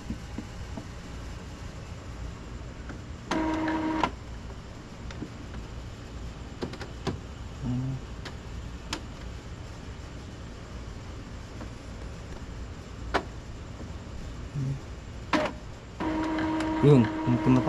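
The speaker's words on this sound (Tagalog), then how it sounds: "Naririnig nyo, tumutunog. Nag-head clean na siya." An Epson L3210 ink printer runs a head cleaning cycle, giving faint mechanical whirs and short motor bursts that come and go over a quiet room hum, with a soft voice speaking at times.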